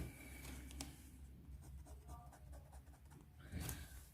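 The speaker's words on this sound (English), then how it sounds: "Reverse writing with this nib is, yeah, it does write on an extra fine side." Visconti Homo Sapiens Bronze Age fountain pen with a palladium nib writing on paper, faint close scratchy strokes in short bursts with brief pauses, quiet and alone.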